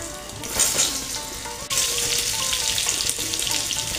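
Boiled potatoes hit hot oil seasoned with cumin seeds, asafoetida and curry leaves for a vegetarian South Indian aloo dum, giving a loud, steady sizzle and frying crackle with a few faint clinks, close up and without any talk.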